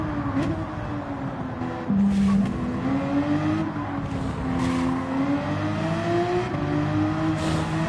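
A race car in Gran Turismo 7 driving into the pits during a league race: a steady close engine drone with a shifting pitch that rises and dips as it slows and accelerates, with no voices.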